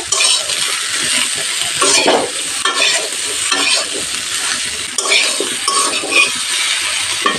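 Pumpkin leaf curry with salt and turmeric is stirred in a hot pan, giving loud close scraping and clinking of the spoon against the pan over a continuous frying sizzle, in repeated stirring strokes.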